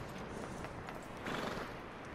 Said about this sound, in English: Got ourselves here a horse.